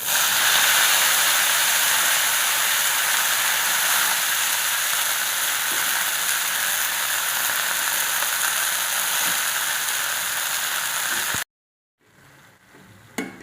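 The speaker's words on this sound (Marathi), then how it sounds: "आता फोडणी उडाली आपण शेकुटी भाजी टाकून घेऊ" Dill (shepu) greens hitting hot oil tempered with mustard seeds and cumin sizzle loudly and steadily, a dense close hiss that holds for about eleven seconds, then cuts off abruptly to near silence with faint stirring.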